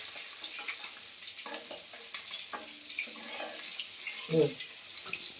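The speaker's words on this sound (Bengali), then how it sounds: "ইলিশ মাছের মাথাগুলো ভাজা হয়ে গেল" Hilsa fish heads frying in a pan of oil give a steady, close sizzle throughout, with a few soft utensil touches and a brief louder scrape near the end.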